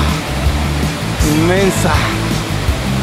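Steady roar of El Sutú waterfall in Mistrató fills the background throughout, with a person talking and exclaiming close by over the rushing water.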